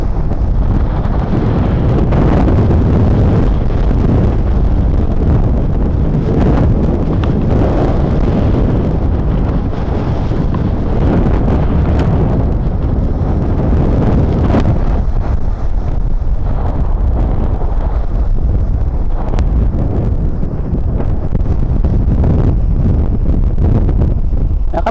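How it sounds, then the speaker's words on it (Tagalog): Strong, steady wind roars and buffets the microphone without letup, with a faint wash of sea and waves underneath. "Lakas ang hangin."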